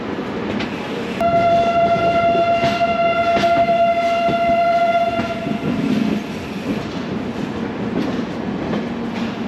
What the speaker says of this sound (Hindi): हमारी ट्रेन एकदम ऑन टाइम डिपार्ट हो गई है विजयवाड़ा जंक्शन से